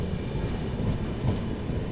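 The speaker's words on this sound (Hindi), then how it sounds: "देखो इस तरफ कोई तो ट्रेन है जिसका बिल्कुल पैरेलल में अराइवल हो रहा है" A passenger train arriving on a parallel track, its rumbling wheels and rail noise rolling steadily nearby with faint clickety-clack, moderately loud and alone.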